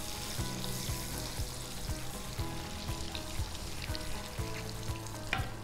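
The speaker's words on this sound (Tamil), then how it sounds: "இதில் நம்ம பட்டர் ஆட் பண்ண போகிறோம். நல்லா ஒரு 100 கிராம்ஸ் பட்டர் ஆட் பண்ணிக்கோங்க." About 100 grams of butter sizzles in a hot kadai while a sweet is made with coconut, giving a steady close crackling fry with repeated scraping stirs.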